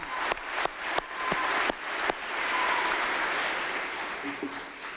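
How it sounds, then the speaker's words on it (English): Applause at a police academy graduation ceremony honoring marksmen, a steady wash of clapping from a large audience with a few sharp individual claps standing out, rising to a sustained level and fading gradually. "another round of applause for our marksmen"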